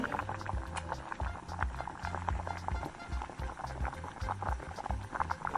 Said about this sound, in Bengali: এইভাবে ফুটিয়ে নিলে আমগুলো নাইনটি পার্সেন্ট সিদ্ধ হয়ে যাবে